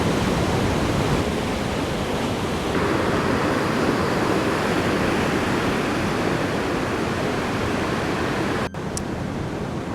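Cascade Falls, a waterfall in Minnesota, roars loud and close as a dense, unbroken wash of rushing water lasting throughout, with no voices.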